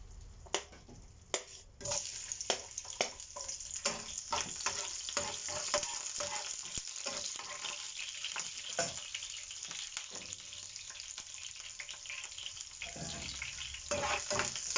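Chopped onion dropped into hot oil with sautéed bagoong for beef kare-kare, a sudden rise into steady crackling sizzle with clicks of stirring, close and moderately loud, with no speech.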